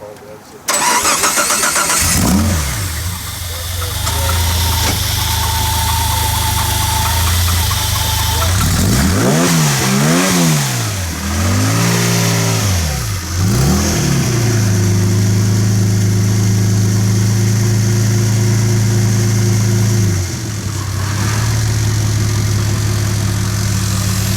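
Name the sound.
car engine idling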